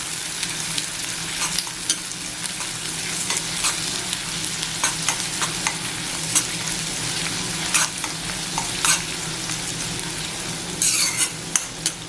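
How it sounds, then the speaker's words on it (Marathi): Onion sautés in a pan over a medium gas flame for a prawn kheema, with a steady close sizzle and frequent scrapes and clinks of a stirring spoon. "गॅस मिडियम केलाय आणि आपल्याला कांदा परतून घ्यायचा"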